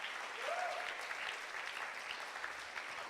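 A church congregation claps in a steady, fairly faint patter of many hands, heard from a distance throughout the short stretch with a brief tonal sound near the start.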